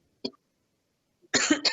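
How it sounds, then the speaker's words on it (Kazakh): A sick ambulance paramedic coughs: a short single cough, silence, then a harsher, louder coughing burst, close and alone. "Жөтел қысса да тұншыға тілдескен"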